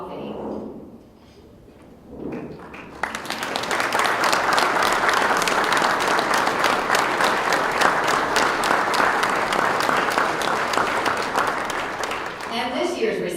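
Sustained applause fills a hall during a sports hall of fame ceremony, a crowd clapping densely for about ten seconds after a brief quiet opening with a voice, then fading as speech resumes.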